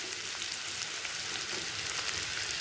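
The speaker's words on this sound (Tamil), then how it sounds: "வெங்காயம் நல்லா இந்த அளவுக்கு நல்லா வதங்கிருச்சு" Onions sautéing in a pan for dried fish thokku give a steady, dense sizzle with soft scattered crackles, close and even throughout, with no voices.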